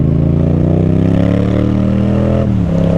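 A motorcycle engine revs loudly and steadily up close, a rich harmonic drone that dips and shifts pitch near the end as the throttle changes, with no voices.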